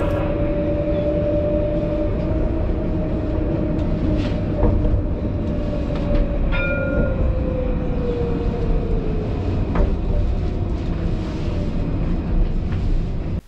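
A line 2 tram at the line 15 terminus in Mulhouse rolls past with a loud, continuous rumble, a sustained wheel whine that slowly falls in pitch and brief higher squeals, close and heard alone.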